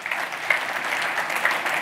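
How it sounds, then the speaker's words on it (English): A church congregation applauds during a Sunday celebration service, a steady wash of many hands clapping at moderate volume from across the room, sustained without a break and with no talk over it. "You guys can celebrate and applaud that."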